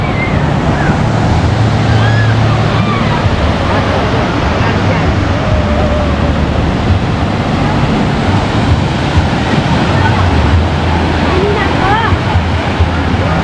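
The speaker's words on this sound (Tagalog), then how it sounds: "Mataas ang alon." High waves roll in at the San Fabian beachfront in Pangasinan, a loud, unbroken roar of surf mixed with heavy wind buffeting on the microphone.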